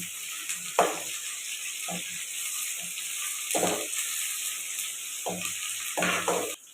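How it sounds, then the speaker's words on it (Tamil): Onions and green chilies fry in a pan for puri masala, with a steady sizzle throughout and several sharper bursts of spatter and stirring scrapes, close and fairly quiet. "வெங்காயம் போட்டாச்சு அடுத்து பச்சை மிளகா போட்டுக்கணும் நல்லா கொஞ்சம் கிண்டி"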